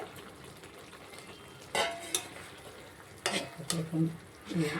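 Small morola fish dropped into a simmering pan of water and oil for a home-cooked chorchori, with soft bubbling, a few sharp splashes and spoon-against-pot clinks, faint and close.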